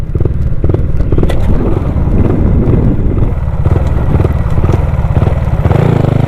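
Motorcycle engine with a stainless steel exhaust pipe, a loud, steady, close rumble running without a break throughout, with a few sharp clattering ticks over the drone.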